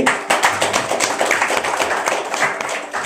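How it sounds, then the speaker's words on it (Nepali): A church congregation claps together in a sustained burst of dense, overlapping applause, steady and fairly loud throughout, with no one speaking over it. "एकचोटि यूहन्नाको लागि पनि ताली बजाइदिउँ है"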